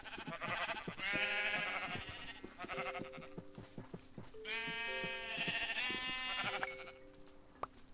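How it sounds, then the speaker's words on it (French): Several sheep bleating in Minecraft with the FTB Inventions modpack, a run of nasal wavering bleats that overlap and repeat at close range over a backdrop of game music notes, with no talking. "C'est des moutons mais c'est pas grave."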